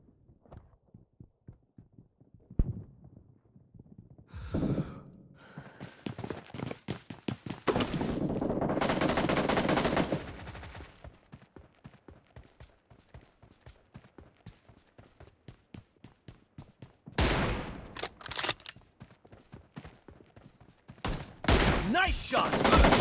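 PUBG Mobile team deathmatch gunfire with an M24 rifle: a long run of sharp, rhythmic shots and clicks, broken by louder blasts and bursts of noise, fairly near.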